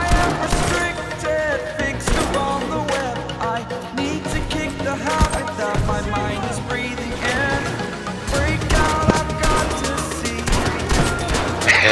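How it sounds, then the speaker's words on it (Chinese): Gunfire in the shooter game Battlefield V: repeated sharp shots and rapid bursts crackle throughout, mixed with game sound effects and occasional faint voices. "有枪声，有枪声"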